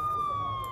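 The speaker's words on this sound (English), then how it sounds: "The siren." A siren effect in a short burst: a steady electronic wail that slowly falls in pitch, sounding near and fairly loud.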